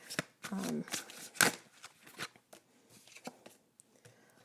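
Tarot cards being shuffled, a sequence of crisp riffling flicks and card snaps, close and fairly quiet, with a voice speaking intermittently over them.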